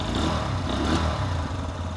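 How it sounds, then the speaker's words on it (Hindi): A 2026 Bajaj Pulsar 125 motorcycle idles up close, giving a steady low engine thrum with a light mechanical clatter running evenly through the clip, and no voices. "ये देखिएगा आइडियल कंडीशन पर इंजन साउंड"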